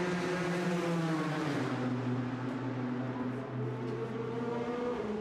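The number 6 Toyota endurance race car at the 2016 Nürburgring 6 Hours rolls into the pit garage on dollies, its engine droning steadily and fairly faint, the pitch dropping partway through amid background circuit noise.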